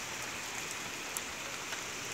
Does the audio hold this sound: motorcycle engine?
no